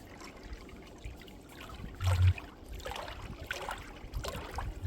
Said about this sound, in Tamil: நல்லா வந்து சட்டு சட்டு சட்டுன்னு அடிச்சிட்டு போகுது. அது அப்படியே நுரையெல்லாம் கிரியேட் பண்ணுது.